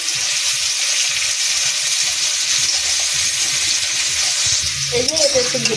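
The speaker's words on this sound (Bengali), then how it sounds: "এবারে কিন্তু আমি এই বিনস কুচিগুলো আগে দেবো। এটা একটু ভাজতে দেরি, সুন্দর করে ভেজে নেব" Chopped beans fry in hot oil, a steady loud sizzle that runs throughout with faint stirring scrapes, alone without any voices.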